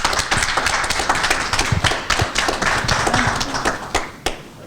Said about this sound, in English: Give them a hand clap, guys.